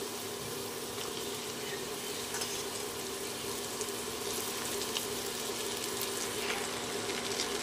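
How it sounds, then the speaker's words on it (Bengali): Chopped cabbage frying in a pan, a continuous dense sizzle with soft crackling and faint stirring, steady and close throughout without speech. "কেটে রাখা বাঁধাকপিটা একে একে দিয়ে দেবো।"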